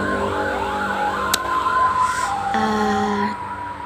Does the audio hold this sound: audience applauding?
no